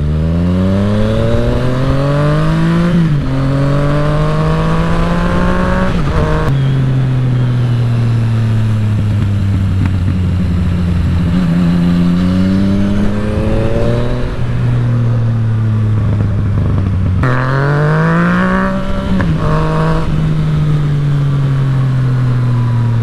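Yamaha FZ-09 motorcycle engine on a canyon test ride along Mulholland: loud, close exhaust note revving up through gears in repeated rising sweeps, dropping at each shift, with no talk.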